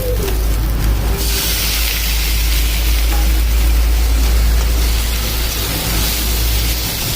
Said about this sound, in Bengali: এবার পেঁয়াজগুলোকে আমি ভালো মতো করে ভেজে নেবো